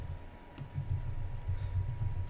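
Rapid keystrokes click on a computer keyboard at close range, a quick, uneven patter of taps over a low background hum.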